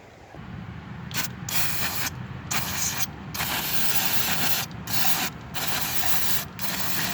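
Cleaner spray hisses in repeated bursts onto the air intake sensors of a 1999 Chevrolet Malibu, short close sprays separated by brief pauses, with no talking.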